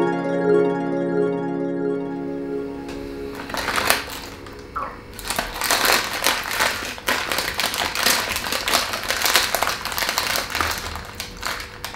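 Extra crispy Oreo cookies are eaten close to the microphone, giving a dense run of sharp, crackly crunches and chewing that carry on for several seconds after a brief low hum at the start.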